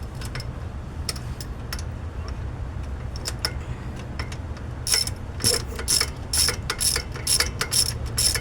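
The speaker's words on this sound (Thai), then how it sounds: "เราขันคายไปเรื่อยครับผมจนกว่า จะหยิบสายพานออกได้ครับผม" A ratchet wrench clicks in repeated quick bursts while bolts are loosened to free the drive belt on a Ford Ranger engine, close and clear over a low mechanical hum, with denser clicking toward the end.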